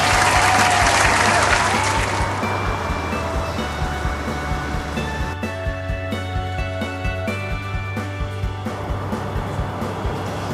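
Enthusiastic clapping from a Cub Scout pack gathered at a meeting, loud and dense at first, then tapering into lighter, scattered claps over a steady low hum in the room.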